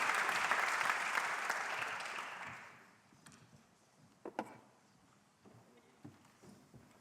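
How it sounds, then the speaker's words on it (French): Audience applause fills a French awards ceremony hall, a dense wash of clapping that fades out after about three seconds, followed by a quiet room with scattered taps and small thuds. "On vous applaudit très fort"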